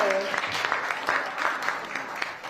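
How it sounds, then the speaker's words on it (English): Applause from a village board meeting audience for the trustees, fairly moderate and uneven, with clustered claps and a faint voice at the start. "let's give a round of applause to the trustees"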